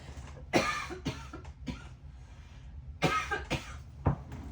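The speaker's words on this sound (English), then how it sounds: "I suddenly feel like I have to cough, so hold on one second" A few close, sharp coughs in two bursts, with throat-clearing sounds between them and no talking.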